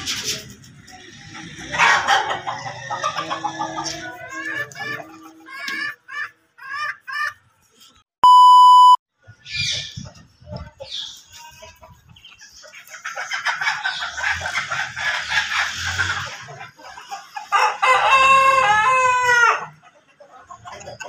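Backyard hens cluck and squawk in bursts, with some louder crowing-like calls close to the microphone, broken by a short electronic beep near the middle.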